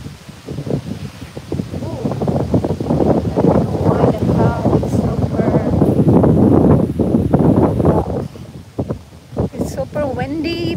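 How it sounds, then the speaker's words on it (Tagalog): Strong wind buffets the microphone outdoors during a dog walk, a rough, gusting rumble with ragged bursts. A person talks over it throughout. "Super windy"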